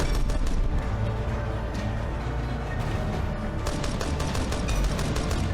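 Gunfire in the video game Divided Skies, a dense continuous rattle of rapid shots with crashing impacts, loud and unbroken for several seconds.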